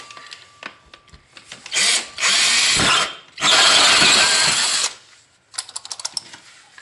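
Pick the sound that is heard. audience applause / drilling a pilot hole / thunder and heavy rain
drilling a pilot hole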